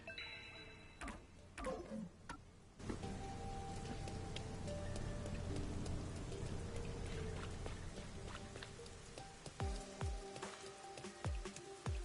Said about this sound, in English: I really hate the rain.